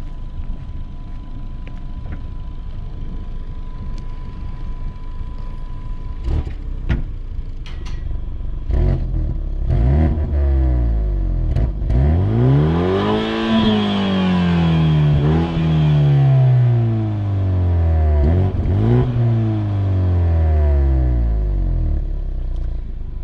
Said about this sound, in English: Here, I'll give it a few revs.